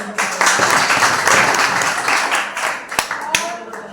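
Loud applause at a Hindi-speaking gathering honoring a senior colleague, a full crowd clapping steadily, with voices mixed in and a few sharp individual claps standing out near the end.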